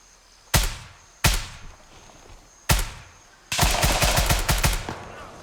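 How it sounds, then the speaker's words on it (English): Gunfire in the video game Grayzone Warfare: three separate loud, close single shots with short decaying tails, then a sustained rapid burst of automatic fire lasting about two seconds, with no talking. "I go to shoot the straggler"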